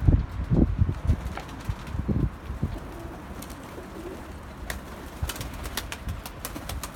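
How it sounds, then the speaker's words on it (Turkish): Pigeons at a loft coo in low, repeated throaty calls close by, with wing flaps and rustling as birds come down to land, followed by quieter scattered clicks and taps. "Şöyle kuşlar bir insin buraya."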